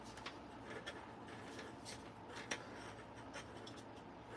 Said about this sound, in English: Can you hear the needles clicking on the table?